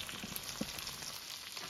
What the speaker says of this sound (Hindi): ये चिकन, ये मैंने फ्राई की हुई थी, इसको मैं डाल रही हूँ इसके अंदर